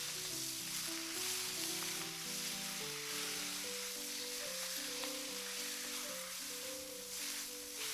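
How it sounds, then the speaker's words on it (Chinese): Milk bok choy stir-fried quickly in a hot wok after salt goes into the fragrant oil, giving a steady, even sizzle for the whole stretch with a tonal musical backing. "快速的翻炒"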